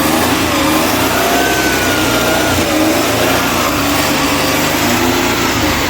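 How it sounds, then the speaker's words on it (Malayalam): The engine of a restored 1985 Maruti 800 (SS 80) runs steadily and close by, a constant mechanical hum with faint whining tones and no speech over it. "നമ്മുടെ വണ്ടി സ്റ്റാർട്ടായിട്ടുണ്ട്."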